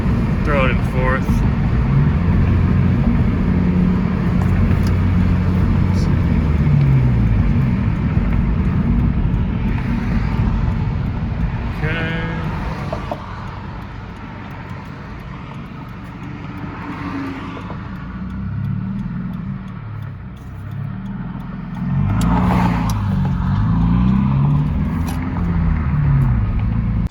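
A Subaru BRZ with a muffler-delete exhaust accelerates in fourth gear, a loud, steady exhaust drone that dips and swells as it climbs, with a person talking over it from inside the car.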